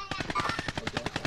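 Rapid automatic fire from a custom SMG in a video game, a steady run of about a dozen sharp, evenly spaced shots, loud and close, with no talk over it.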